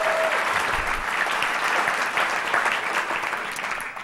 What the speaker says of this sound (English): How about a round of applause for Mr. Leland Klassen warming you up